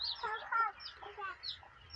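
Backyard ducks and chickens at feeding time, several short clucks and soft calls in a loose irregular series, fairly faint and close.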